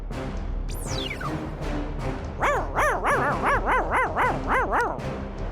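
A robot dog in a Hindi children's cartoon barks in a quick series of about ten bright, evenly spaced yaps after a whistling downward swoop, loud and close over a busy soundtrack.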